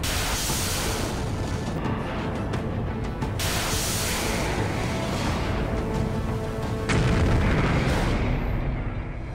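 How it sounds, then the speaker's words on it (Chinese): A YJ-8 anti-ship missile warhead explosion gives a loud, sustained broadband roar with deep rumbling throughout, swelling slightly near the end, with no voices. "我们这个战斗部它是在内部爆炸"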